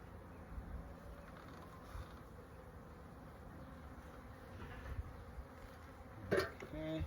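Honey bees buzz softly around an open hive, a faint, steady drone heard from close by with occasional light knocks and handling sounds.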